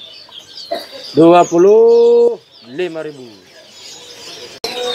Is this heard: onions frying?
no